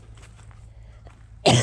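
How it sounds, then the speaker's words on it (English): A single sharp cough from a person who is sick, working outdoors on a homestead with Bermuda grass, bursting out loud and close at the end after a quiet stretch. "I'm starting to cough."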